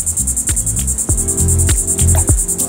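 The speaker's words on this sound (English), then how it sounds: "Listen to the sound that the bugs make in the trees here." Loud, dense insect chirping pulses rapidly and continuously, a shrill close-up drone with rhythmic throbbing over low rumbling background noise.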